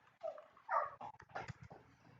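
A small dog whimpers and whines softly indoors, a few thin rising cries close by with short pauses between them.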